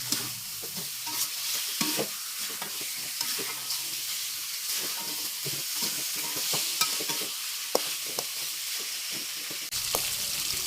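Chicken is stirred into cooked, fragrant spice paste in a pan, giving a steady close sizzle and hiss broken by repeated scraping and clacking strokes of the stirring utensil.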